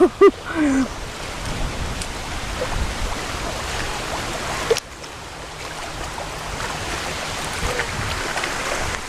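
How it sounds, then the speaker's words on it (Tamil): Steady water lapping and splashing on Munroe Island backwaters in Kerala, a continuous wash of moving water with a brief clunk near the start and a soft bump midway. "தண்ணி வந்து அப்படியே சல சல சல சல சல சலன்னு இருக்கு."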